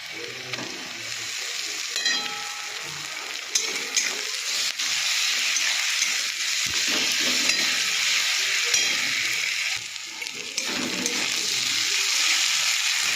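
Onions frying with cumin, bay leaf and ground masala paste in a pan, a steady loud sizzle broken by scraping and stirring clatter throughout, with no talk.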